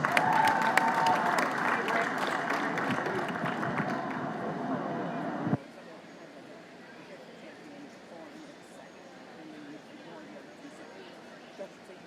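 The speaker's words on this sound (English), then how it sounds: "Let's give them one more big hand if you would, please." A crowd at a county fair livestock show claps steadily for several seconds, then the applause cuts off abruptly, leaving quieter room noise and faint voices.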